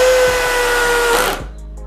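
Bosch GSR 185-Li cordless drill driving a screw, a loud steady high whine that cuts off abruptly as the bit stalls, leaving only faint room noise.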